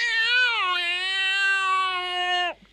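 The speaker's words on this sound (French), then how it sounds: "Oh là là, il miaule. Il doit faire un cauchemar." A single long, drawn-out cat meow, loud and close, with a steady tone that drops off sharply at the end, heard alone with no talking.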